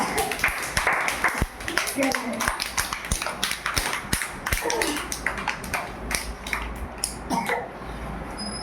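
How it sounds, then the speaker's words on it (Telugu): Preschool children at an anganwadi clap together in a burst of sharp, uneven hand claps, near and fairly loud, with scattered taps and knocks mixed in over several seconds. "పిల్లలు అందరూ చప్పట్లు కొట్టండి."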